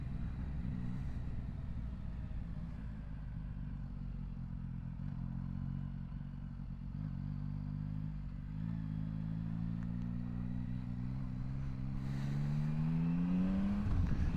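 Motorcycles pass on a road in a steady engine drone that builds near the end as one bike accelerates close by, its rising whine climbing over the continuous rumble, with no talking.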